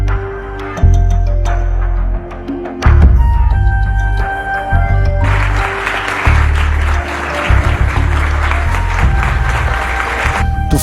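An audience applauds a visiting president, with clapping that swells, drops briefly and then holds steady under a hall's background noise.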